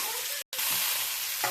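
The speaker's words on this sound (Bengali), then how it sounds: "ভাজা সবজিগুলো দিয়ে দিচ্ছি" Fried vegetables tipped into hot oil with ginger for shukto, a steady bright sizzle with stirring, broken by a brief silent gap, then a soft clink of the utensil near the end.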